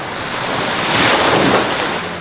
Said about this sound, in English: Nice sand, nice water, a bit of a breeze, so it's not too crazy hot.